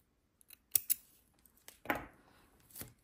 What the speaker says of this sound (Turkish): Ve ipimi artık burada kesiyorum.